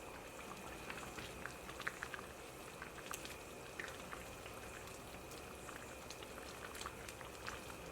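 Chicken soup with dumplings bubbling in a pot, a faint steady simmer with soft popping bubbles throughout, quiet and close.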